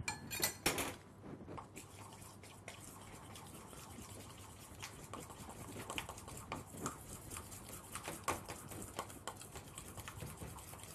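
Melted chocolate is stirred together with homemade hazelnut paste in a bowl, giving soft, continuous scraping and clinking of the utensil, with a few sharper knocks near the start.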